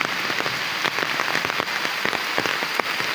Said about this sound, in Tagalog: Mga idol, tayo inabot na ng ulan.